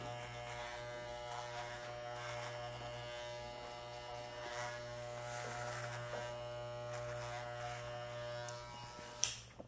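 An electric hair clipper buzzes steadily and close for the whole stretch while cutting hair during a fade haircut, a constant hum with no speech, ending in a couple of brief clicks.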